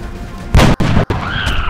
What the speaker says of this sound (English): we're going to shoot it. We're going to do the headshot.